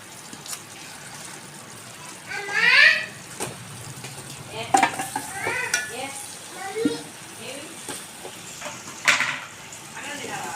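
Boiled chicken hits hot oil and masala in a pan for a chicken roast, giving a moderate sizzle with stirring and scraping clatter, and a voice talks over part of it.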